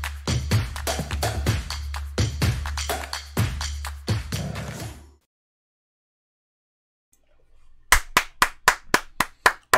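Hands clap close to the microphone as an audio test: an irregular run of sharp claps for about five seconds, then silence, then a crisp series of evenly spaced single claps to finish.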